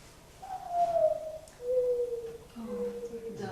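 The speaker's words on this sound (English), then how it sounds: "Morning dove" Mourning dove call: soft, low cooing notes in a slow sequence of about three drawn-out, gently falling tones, fairly close against a quiet background.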